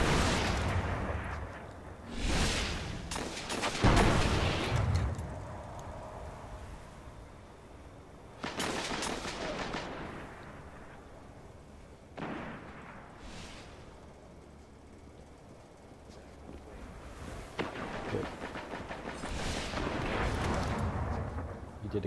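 Heavy gun firing in the Destiny video game, several loud booming shots and bursts spaced irregularly across the clip over a low game ambience.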